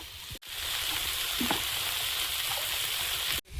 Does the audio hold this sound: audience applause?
no